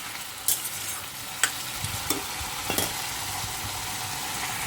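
Food frying in a home kitchen, with a steady sizzle running throughout and a few sharp clicks and scrapes from stirring, heard close with no talking.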